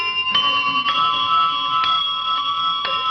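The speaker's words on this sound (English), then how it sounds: "Kids, what do those bells mean?" A few bells ring out together in bright, sustained tones, struck again roughly every half second, close and clear, with no talking.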